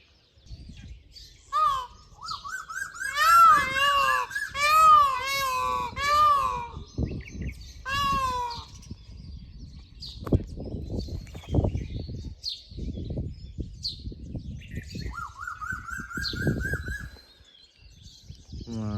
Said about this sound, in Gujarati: ઝાડવામાં સામે કોયલ બોલે છે અને અહીંયા મોરલા બોલે છે.